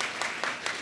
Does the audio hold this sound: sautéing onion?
no